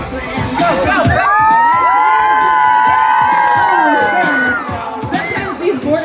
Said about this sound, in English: Now we can cheer for your boy.